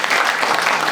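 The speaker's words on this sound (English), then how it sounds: "So may we have a round of applause." An audience at a fireside chat claps in a brief, dense burst of applause, loud and close, heard alone without talk.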